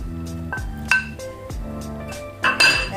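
Carrots being stirred into a pot of hot pot shabu shabu, giving a few close clinks and scrapes of utensil against cookware with soft thuds between them, with no voices.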